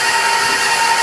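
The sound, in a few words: mixer mixing eggs into cookie batter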